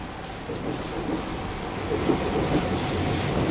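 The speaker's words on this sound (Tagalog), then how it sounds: "Oh my god, may MRT sa tuktok." Overhead MRT train in Singapore rolling past, a steady broadband rumble with faint clickety-clack that swells slightly louder midway, heard from below at street level.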